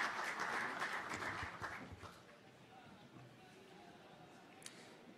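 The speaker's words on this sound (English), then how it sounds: "Please, a big round of applause." Audience applause at a Render Network Foundation presentation in Buenos Aires, loud and dense for the first two seconds, then tapering to a faint scattered patter.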